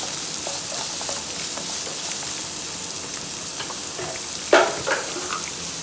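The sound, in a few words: vegetables sautéing in a pan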